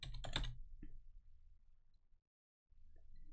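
A quick burst of typing on a computer keyboard, a few close, soft clicks at the start that trail off into near silence.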